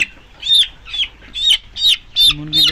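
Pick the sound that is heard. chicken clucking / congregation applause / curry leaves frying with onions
chicken clucking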